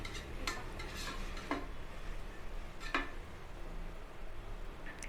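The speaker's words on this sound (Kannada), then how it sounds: "ಇವಾಗ ನಾನು ಒಂದು ಚಿಟಿಕೆಯಷ್ಟು ಅರಿಶಿನ ಹಾಕ್ತಾಯಿದ್ದೀನಿ ಇದನ್ನು ನಾನು ಇವಾಗ ಚೆನ್ನಾಗಿ ಮಿಕ್ಸ್ ಮಾಡ್ಕೋತೀನಿ" Vegetables for tomato bath are stirred in a pot after turmeric is added, with soft scraping and a few sharp spoon taps on the metal against a low background sizzle.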